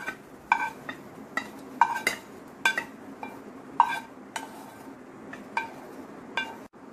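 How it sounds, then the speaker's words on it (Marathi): Cooked mushrooms are scraped from a pan onto a plate, a series of sharp metallic clinks and taps from a utensil against cookware, irregular and close, in a quiet kitchen. "हे आता आपण एका प्लेटमध्ये काढून घेऊ"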